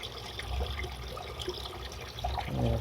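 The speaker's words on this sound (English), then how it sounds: "And here comes the water." Water runs back into a filter tank after a PVC ball valve replacement, a continuous gurgling, splashing flow that swells toward the end.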